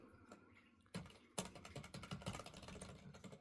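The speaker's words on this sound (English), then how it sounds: "I also will be typing in your answers." Rapid typing on a computer keyboard up close, a quiet ASMR-style setting, with soft clicks starting after a near-silent second and then running in a dense, steady flurry of keystrokes with no voices.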